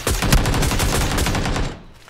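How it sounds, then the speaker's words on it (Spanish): A short, loud burst of rapid gunfire in the PUBG video game (PlayerUnknown's Battlegrounds), several close shots fired in quick succession before fading out. "Fijaros también cómo me da dos tiros, uno abajo en la pierna"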